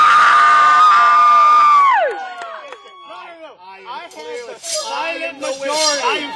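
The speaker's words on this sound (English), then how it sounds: "Give a cheer!" An audience cheers loudly at first, with a rising shout holding steady before dropping away, followed by scattered voices, laughter and yells from the crowd at a live show.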